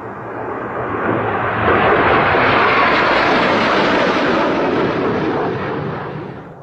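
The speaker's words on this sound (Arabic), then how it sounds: "طيارة عسكرية وعساكر؟" Military aircraft roaring loudly overhead, a dense continuous rumble that builds over a couple of seconds, holds at full strength through the middle, then eases slightly toward the end, with no voices.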